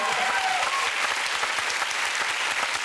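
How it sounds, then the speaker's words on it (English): Continuous applause from a television studio audience, steady dense clapping throughout with no pauses. "Round of applause for that."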